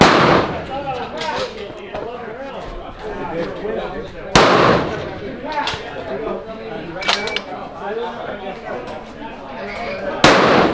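Precision rifle shots at a barricade stage of an NRL match, fired as several sharp, loud cracks spaced seconds apart, with people talking throughout.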